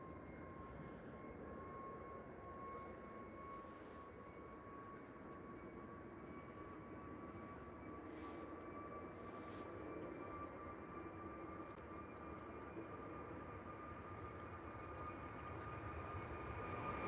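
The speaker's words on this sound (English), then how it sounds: "There we go, very different sound on the Neo engine." An easyJet Airbus A320neo engine roars steadily at Liverpool John Lennon Airport, a loud, continuous drone with a thin whine on top that builds slightly toward the end, with no voices.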